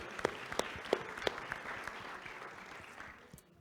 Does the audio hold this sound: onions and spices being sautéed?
no